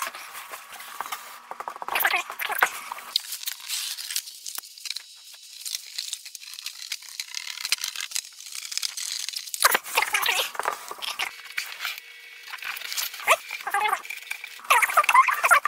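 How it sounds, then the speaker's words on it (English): Scraping, tearing cuts of a sharp razor blade through cardboard, repeated in uneven strokes at close range, with crinkling and rustling between cuts. "Using a nice sharp razor blade, I cut out my template"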